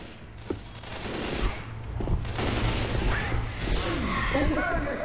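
Sustained gunfire in Left 4 Dead 2 with rapid overlapping shots and occasional sharper cracks, loud and continuous, with people talking over it.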